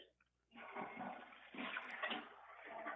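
A toilet flushes in one long, loud rush of water that starts after a brief quiet moment and keeps churning steadily to the end, with no talking.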